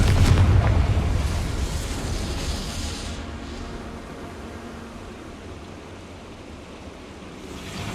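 A Confringo explosion spell cast in the Hogwarts Legacy video game: a heavy, booming blast at the start that rumbles and decays into a long, fading wash of noise.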